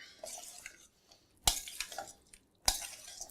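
Dressing being mixed into a beet salad in a bowl, with faint wet stirring and two sharp utensil clinks against the dish, quiet and close.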